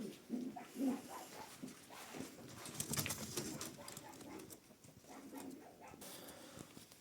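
Racing or show pigeons in a loft coo softly and repeatedly, low throaty calls layered with faint rustling and wing shuffles, fairly quiet and close.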